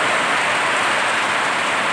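A dense, constant downpour of heavy rain on a farm hisses evenly with no pauses or other sounds.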